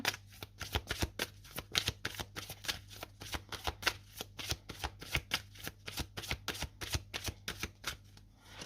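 Oracle card deck being shuffled before a card is drawn, a rapid steady riffle of close crisp card flicks, quiet and without talk.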